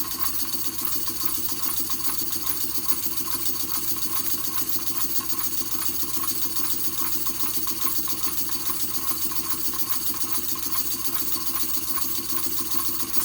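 An OKMO Microcosm P71 mini pump engine runs continuously, giving a steady rapid mechanical clatter and hum at an even level, close and unbroken throughout, with no voices.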